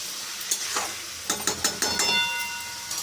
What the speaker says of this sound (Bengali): এখন একটু নুনটা মিশিয়ে নেবো কপির সঙ্গে।